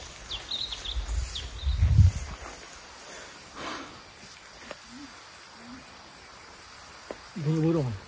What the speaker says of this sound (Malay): Bunyi burung.